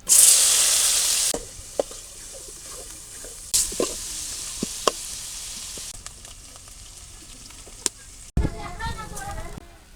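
Shrimp and chopped onion frying in oil in a wok make a loud burst of sizzling at the start, then settle into a softer, steady crackle with clinks and scrapes of stirring.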